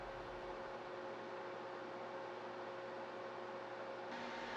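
A Breville Joule Oven Air Fryer Pro runs steadily while air-frying fries at 285 degrees Fahrenheit, giving off an even fan whir and a low hum with a faint tonal whine, constant and unbroken throughout.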